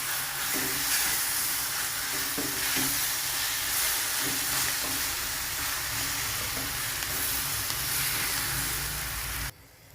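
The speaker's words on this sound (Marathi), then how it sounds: "मी भाजलेले वांग्याचं ते मिक्स केलेलं आपण ॲड केलं आहे आता ते परतून घ्यायचं आहे चांगलं" Roasted eggplant mash for bharit sautéing in a pan, giving a steady, close sizzle and hiss that runs unbroken for nearly the whole stretch, with faint stirring scrapes, then cutting off abruptly near the end.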